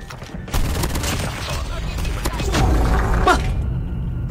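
Gunfire in an online multiplayer shooter game, dense rapid bursts of shots with thuds and booms, fairly loud and continuous throughout, with no clear talk over it.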